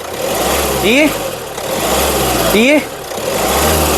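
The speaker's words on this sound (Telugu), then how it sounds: "ఇంజిన్ యొక్క నాయిస్ పర్ఫెక్ట్గా అయితే ఉందండి" The engine of a 2016 Hyundai Creta SX idles close by with a steady low hum, while a voice speaks over it in two short rising phrases.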